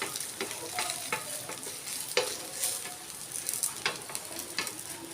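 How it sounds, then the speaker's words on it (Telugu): Street-style rava dosa sizzles and roasts steadily on a hot pan, with a continuous close frying hiss and occasional scraping clicks from a spatula, no talk. "ఇలా మంచి ఎర్రగా కాలితేనే టేస్ట్ ఉంటుంది రవ్వ దోశ."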